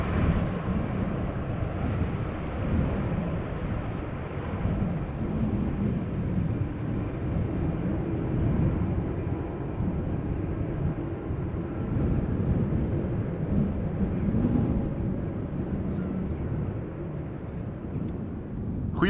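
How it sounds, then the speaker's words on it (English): A Boeing 787-10 Dreamliner arriving at Amsterdam Schiphol on a breezy day produces a continuous, moderately loud low jet roar mixed with wind buffeting, sustained throughout without speech. "flight 758 was this 787-10 Dreamliner returning from Panama City"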